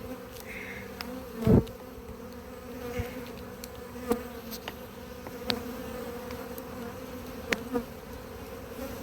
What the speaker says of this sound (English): Can you hear the note of the colony now? They're sort of not, that's not a swarming noise, but it's they've had enough.